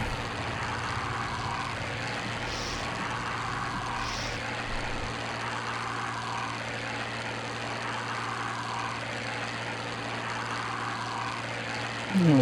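Hawker Sea Fury propeller engine in flight in Microsoft Flight Simulator, a steady droning hum held evenly for the whole stretch with no talk, ending in a short louder burst.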